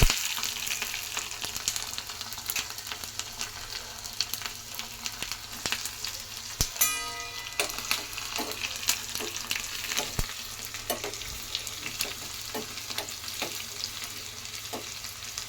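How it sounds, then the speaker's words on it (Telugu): Garlic frying in oil with dried red chillies for garlic rice, a steady soft sizzle broken by scattered pops and occasional clinks of a spoon against the pan. "కొంచెం వెల్లిపాయలు ఫ్రై కావాలి."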